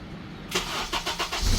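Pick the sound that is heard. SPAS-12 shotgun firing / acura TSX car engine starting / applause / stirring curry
acura TSX car engine starting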